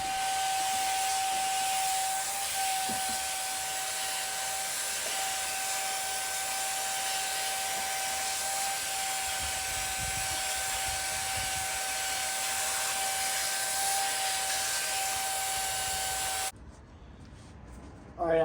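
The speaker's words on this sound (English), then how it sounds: "We can vacuum all the dirt and debris around, and then we can get down into the ports and vacuum any debris" Shop vacuum sucking dirt and debris out of the engine ports of a 2012-2017 Jeep Wrangler, a steady loud whirring hiss with a constant whine that runs for most of the time, then cuts off near the end.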